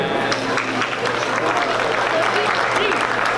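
An audience at a New Year celebration opening ceremony applauds the governor's message, a dense, steady wash of clapping that holds evenly throughout with no clear voices above it.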